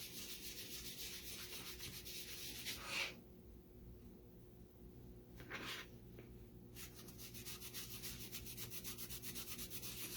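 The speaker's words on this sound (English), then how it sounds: "flip it over and use the microfiber side to buff it off. So you just rub it in, rub it off" A microfiber applicator rubs and buffs a surface in a steady, close, scratchy rhythm, with a brief pause partway through before the rubbing resumes.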